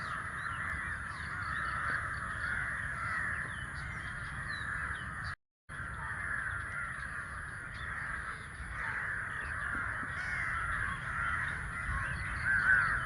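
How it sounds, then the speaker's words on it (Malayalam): Crows cawing repeatedly near coconut trees beside a Kerala fishing spot in calm evening weather, a steady chorus of harsh calls at moderate distance, broken by one short dropout midway. "കൊക്കുകളും കാക്കകളും"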